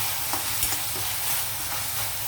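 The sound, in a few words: ginger garlic paste frying in a pan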